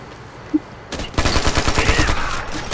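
Gunfire in the video game Ghost Recon Future Soldier starts after a quiet moment: a rapid burst of automatic shots rattles loudly over background game noise, with a faint whine trailing off.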